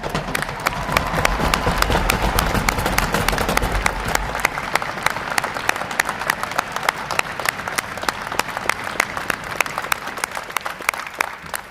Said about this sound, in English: Would all our veterans please stand so we can give you a round of applause?